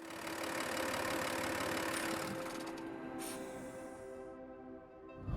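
A BMW X7 M50d diesel engine runs, giving a steady, moderately loud mechanical hum with a faint whine on top. The sound eases slightly toward the end, with no talk over it.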